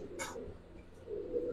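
Pet pigeons, including Gribaz silver chila birds, give a soft, low cooing close by, with a brief brighter rustle or flutter early on. The sound is quiet and lasts only a moment.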